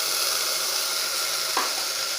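Onion and tomato frying in a pan for cabbage kootu, giving a steady, close hiss of sizzling oil with one brief stir partway through and no voices.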